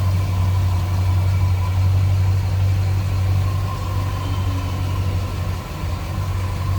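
A 1957 Chevrolet 3100 Stepside street rod pickup idles with a steady, deep, even rumble, close and alone, holding constant throughout.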